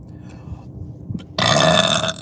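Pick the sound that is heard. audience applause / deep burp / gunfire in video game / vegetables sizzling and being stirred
deep burp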